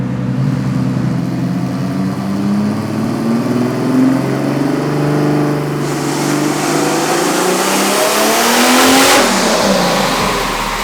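A V12-swapped Toyota Hilux running on a dyno with light boost makes a loud, close engine sound as it revs, rising steadily in pitch before a sharp cut and drop. The rev holds without any talk.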